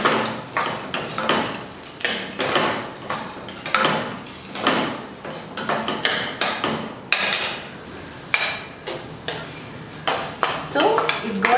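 Chana dal frying with coriander in a pan for temple-style puliyodharai podi, with repeated scraping stirs of a spoon against the metal pan in a steady rhythm over a soft sizzle, close and fairly loud.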